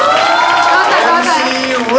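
A crowd at a college singing-and-talk show cheers and shouts loudly and steadily for about two seconds, with high excited voices running through the din.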